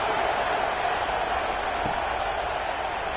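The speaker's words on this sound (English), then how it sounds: "this crowd is buzzing after that last score" A football stadium crowd buzzes after a score at a New Orleans versus LSU game, a loud, steady wash of massed voices with no distinct cheers.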